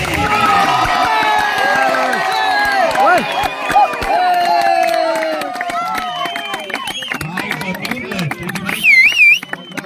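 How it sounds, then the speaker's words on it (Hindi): A crowd at a local cricket league final welcomes the champion team's captain with whoops, whistles and scattered clapping, close and loud, with voices shouting over the cheering. "कैप्टन का स्वागत हो जोरदार तालियों में"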